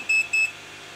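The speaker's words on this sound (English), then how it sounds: "You heard that beeping. It was my voltmeter rescaling." A voltmeter on a 30V 3A dual buck power supply gives two short, high electronic beeps in quick succession while it rescales, then goes quiet. The beeps are clear against a faint background.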